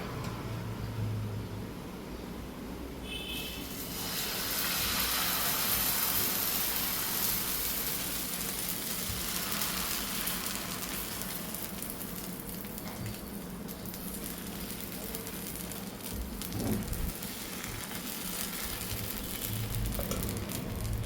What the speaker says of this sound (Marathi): तवा आपलं जास्तही गरम झालेलं नाही आहे तर आता आपण हे बॅटर टाकून घेऊया